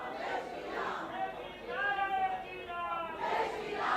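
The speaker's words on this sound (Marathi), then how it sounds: "आपण पाहू शकतो या घोषणांनी अक्षरशः भाजपचं कार्यालय आहे ते दणाणून सोडलेलं आहे" BJP women corporators chant slogans in celebration inside the party office in Mumbai, a group of voices calling in unison in rising swells over a busy, crowded room.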